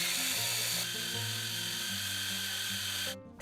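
Food chopper motor whirring steadily as it grinds boiled chicken liver with sautéed vegetables and a little cooking liquid, a loud, continuous hum with shifting pitch that cuts off abruptly near the end.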